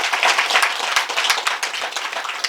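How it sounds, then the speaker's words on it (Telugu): Loud, dense applause from a meeting audience clapping together, steady and sustained throughout with no talk over it. "అందుకొరకు వాళ్ళందరికీ ఒక్కసారి మనం గట్టిగా చప్పట్లు కొడదామండి."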